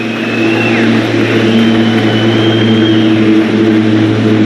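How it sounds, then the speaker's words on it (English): A loud, steady engine drone of an airplane passing overhead, holding at a constant rumble with a slowly shifting whine throughout. "wait for that plane."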